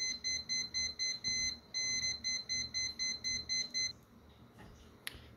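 A multimeter beeps steadily during a continuity check on a Gotek drive's rotary encoder circuit, giving a rapid series of short, evenly spaced tones that stop partway through, leaving faint background noise.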